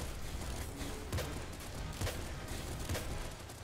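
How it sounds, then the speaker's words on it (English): Game explosions with a burn effect in Nuclear Throne come as a few soft, muffled thuds over a steady crackling noise bed, fairly quiet, with no talking. "explosions doing this burn effect is really nice"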